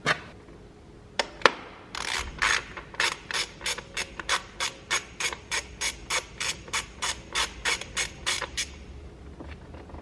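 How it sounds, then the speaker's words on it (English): A ratchet turning a 10mm socket to remove ignition coils on a 10th-generation Civic Si gives a few slow clicks, then a fast, even run of about twenty loud, close ratcheting bursts with no talk. "We're gonna use a 10mm to get these off"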